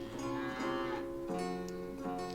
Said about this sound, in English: So yeah, we've got cows there in the field, you can see now.